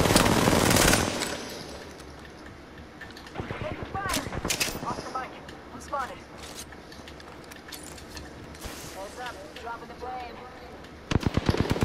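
Automatic weapon fire in the Apex Legends video game on PS5 comes as a loud opening burst, then scattered rapid volleys and single shots mixed with game effects, with a sharp burst again at the end and players talking throughout.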